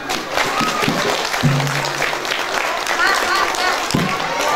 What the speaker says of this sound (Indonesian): Dah, kita kasih tepuk tangan.